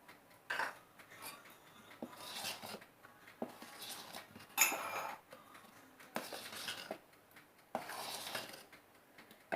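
Cake batter of refined flour and milk being stirred in a bowl, with intermittent scraping and clinking strokes of the spoon against the sides, close and fairly quiet with short pauses between bursts.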